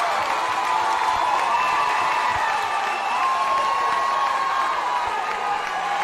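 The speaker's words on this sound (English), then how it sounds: "And that brings a big cheer from the Knight fans here" Knight fans cheer in the stands at a high school state championship baseball game. The crowd roars as a broad sustained wash that stays loud for several seconds, with a few shouts rising above it.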